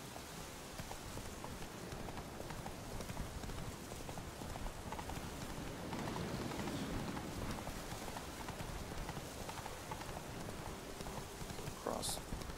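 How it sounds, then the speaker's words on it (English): Horse hooves clip-clopping in The Witcher 3 video game, a steady run of hoofbeats under continuous ambient game sound, with someone talking over it. "Where's that dumb horse?"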